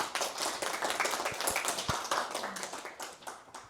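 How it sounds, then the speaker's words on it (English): A modest group applauds its host at a training session, quick individual claps forming a lively, somewhat uneven patter, close and clear with a few sharper hand strikes, and no talking over it. "could you just give Valerie a round of applause for like hosting this?"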